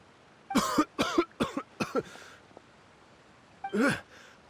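A video game character coughs after water goes down the wrong pipe: several sharp coughs in a quick burst, a short pause, then one more harsh cough, close and fairly loud with no speech.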